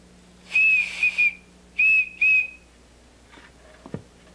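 A whistle linked to Tiwanaku-style culture gives two pairs of short, shrill tones, clear and close, followed by a few faint clicks and a thud in near silence.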